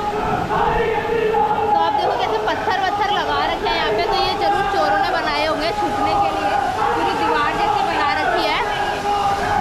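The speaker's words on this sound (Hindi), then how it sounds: "बहुत शोर आ रहा है, पानी का भी शोर है और वैसे लोगों का भी शोर आ रहा है।" Crowd chatter and rushing water echo inside Robber's Cave, a river cave at Guchu Pani in Dehradun, Uttarakhand, forming a steady, dense wash of many voices over flowing water.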